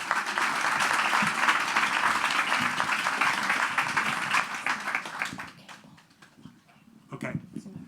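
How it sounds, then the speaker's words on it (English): Applause from an audience at an art event, dense broadband clapping for about five seconds before thinning out to a few scattered claps and some murmuring. "So a round of applause for everyone,"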